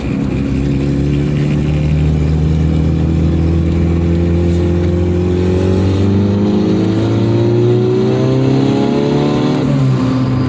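Car with a freshly rebuilt transmission and a new clutch disc being broken in, driven gently off boost; a loud, steady engine drone rises in pitch through the gears, with no talk.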